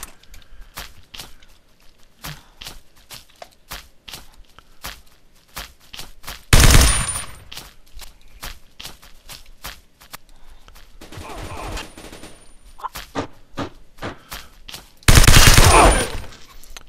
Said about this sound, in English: I'm gonna change over to the RPK.